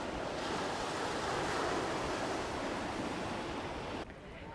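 Waves wash continuously onto a rocky beach at Vera Playa in Spain, a loud, even rush of surf mixed with wind buffeting the microphone, easing slightly near the end with no voices.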